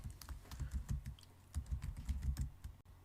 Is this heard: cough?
no